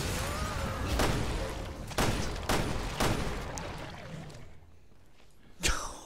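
Gunfire in Resident Evil Revelations 2, several loud close shots at roughly half-second to one-second spacing over a rumbling, noisy game backdrop, then a fading tail and one final sharp burst.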